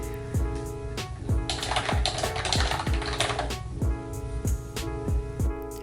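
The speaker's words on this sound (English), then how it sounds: "I wanted to show you this new, somewhat mechanical sounding keyboard" Keys clatter steadily on a somewhat mechanical-sounding keyboard bought in Korea, with repeated sharp clicks and thocks at a brisk, even rhythm, recorded close up with no talking.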